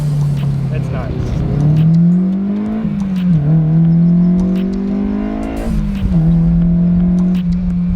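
A Honda S2000 engine fitted with a test pipe exhaust revs up and settles several times, a clean, rising tone that climbs, drops back and climbs again close by, with people talking over it.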